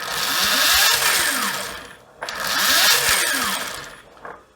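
A 2018 Alta MXR electric motorcycle's rear wheel spins up freely at about quarter throttle, rising to a loud, high whine twice, dropping off between surges and again at the end.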